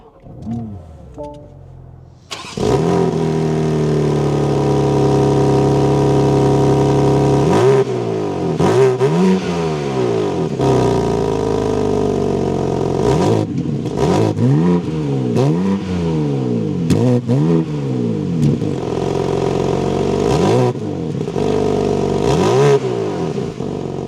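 A 2026 BMW M4 Competition xDrive engine fires up with a loud burst, settles into an idle, then is revved repeatedly in sharp rising and falling sweeps, each blip loud and close with pauses between them.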